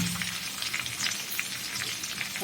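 Sliced onions fry in hot oil for pulao, a steady close sizzle and crackle running the whole time with no voices.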